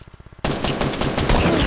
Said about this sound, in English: I'm trying to shoot at you.